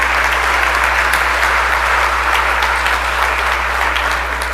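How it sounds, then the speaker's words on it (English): A chamber full of people on the Mississippi House floor gives a steady round of applause, dense continuous clapping over a low electrical hum, with no one speaking over it. "Give them one round of applause for me."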